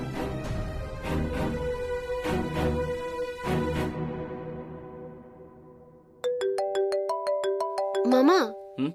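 A mobile phone rings with an incoming call in a home setting, a repeating electronic ringtone melody of stacked tones starting loud and clear after a stretch of speech, with a final rising warble.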